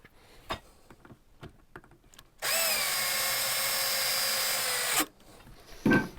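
Power drill tightening toilet seat bolts, a single loud whirring burst of about two and a half seconds between quieter handling clicks and taps.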